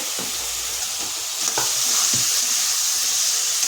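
Fried potatoes drop into a sizzling fish curry masala in a pan, producing a few soft clunks and stirring scrapes over a constant, close frying hiss.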